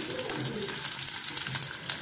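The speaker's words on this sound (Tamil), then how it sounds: "நல்லா வதங்கட்டும்." A steady, close sizzle of ingredients sautéing in a pan while a drumstick rice dish is cooked, with a soft hiss and crackle that continues without talk.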